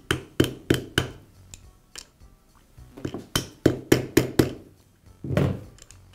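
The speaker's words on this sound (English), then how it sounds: "I'll place it over the shaft and use a socket to tap it into place" A socket is used to tap a gear and spring assembly onto the shaft of a Makita grinder, a rapid series of sharp metallic knocks in two bursts with a brief pause between.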